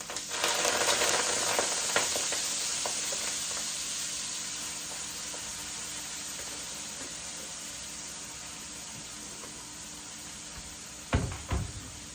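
Kale and other vegetables frying in a pan, a loud hiss that swells as they hit the oil, then settles into a steady, gradually softening sizzle with a couple of clanks near the end.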